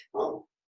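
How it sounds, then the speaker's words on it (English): A dog gives a single short bark, close and fairly quiet, alone with no talk, cut off after a brief moment. "Sorry about that barking."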